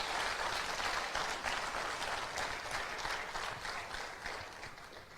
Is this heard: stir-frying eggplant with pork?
no